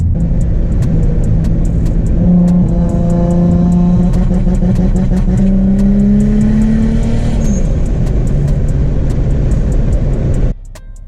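A loud turbocharged Infiniti G35 engine revving under boost, with a high rising whine and screaming wastegate whistle climbing over the roar, then cutting off abruptly.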